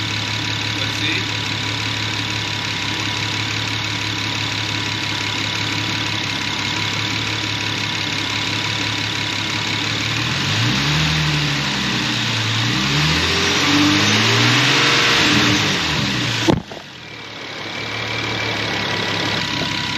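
A VQ-engined car idles steadily, then its engine rises and falls in pitch as it is revved around the middle, followed by a sharp knock and a return to a steady idle.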